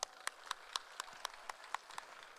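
An audience claps for students after their cooking presentation. Sharp, distinct claps come at a fairly regular pace, like a small group applauding in a hall, with no talking.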